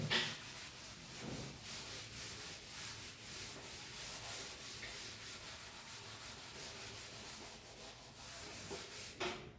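Chalk is rubbed off a classroom board with a steady series of soft, scrubbing strokes, faint and continuous, with no talking.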